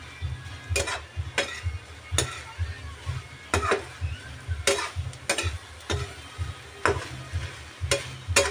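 Gizzard fries in a pan with lubi-lubi, cassava, ginger and lemongrass, a steady sizzle close by under repeated sharp scrapes of a utensil stirring in a regular rhythm.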